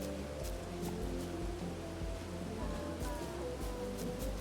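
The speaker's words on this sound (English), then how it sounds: "Or is that rain gonna wash it away?" Steady rain falls in the Bugsnax video game, a soft continuous hiss of drops with faint pattering, low tonal hum underneath and no voices.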